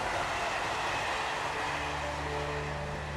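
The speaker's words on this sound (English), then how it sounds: "AVE Train 357 continues on its way towards Madrid." AVE high-speed train running toward Madrid, heard as a steady, loud rushing roar of rail travel with a low rumble and faint tonal hum, continuous throughout.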